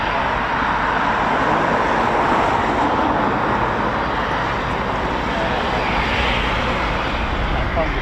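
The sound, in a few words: Eurofighter Typhoon FGR4 jet engine at RAF Coningsby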